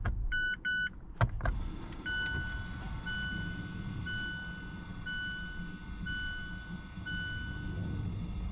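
A Mazda CX-5's electronic parking brake motor gives a short whirring burst near the start. Steady, evenly spaced electronic chimes then repeat inside the car, with no talking.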